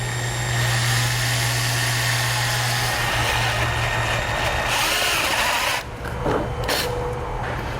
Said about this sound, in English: we're going to be using a step bit so we can slowly step that up to make sure we get a good fit